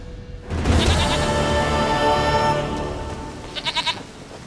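A goat in the game Witcher 3 Wild Hunt gives a loud, drawn-out bleat up close, followed by a shorter quavering bleat a moment later.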